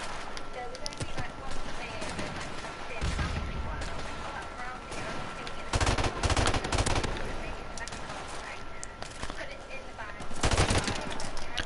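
Bursts of automatic AK rifle fire in Call of Duty MWR, in several rapid volleys with quieter gunshots between, mixed with game ambience and a player talking over it.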